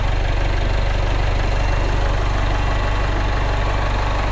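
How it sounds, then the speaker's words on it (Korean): A Jaguar F-PACE 20d diesel SUV engine idles steadily up close, with a low, even rumble and a faint rhythmic knock throughout. "엔진 소리도 일정합니다"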